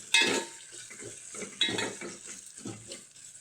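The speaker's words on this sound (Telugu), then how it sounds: "జీలకర్ర, అలాగే మనం తీసుకున్న వెల్లిపాయలు వేసుకొని మరొకసారి కలుపుకోవాలి." A spoon scrapes and stirs cucumber gravy with cumin and garlic in a pan, a series of close clinking, scraping strokes over a faint sizzle, with no talk.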